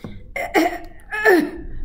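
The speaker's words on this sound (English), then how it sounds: "A long, scratchy cough" Two raspy, rough coughs, close and fairly loud, with a short pause between them.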